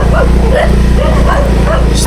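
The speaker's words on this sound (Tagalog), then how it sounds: "Ang daming aso dito" Several dogs yip and bark in short bursts, mid-distance, at a public cemetery in Argao, Cebu, with people talking over them throughout.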